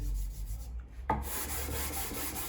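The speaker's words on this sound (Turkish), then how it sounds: "Zımpara takozu zaten önce yüksek olan yerleri alıyor." A sanding block rubs back and forth across a wooden door threshold in steady, close, raspy strokes, briefly pausing before the scraping resumes.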